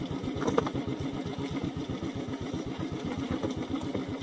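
Motorcycle engine labouring on an off-road climb toward Chooral waterfall in Kerala, a steady low chugging pulse at moderate distance, fairly quiet and continuous throughout without talk.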